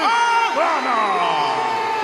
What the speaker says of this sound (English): the crowd doesn't seem too happy about that decision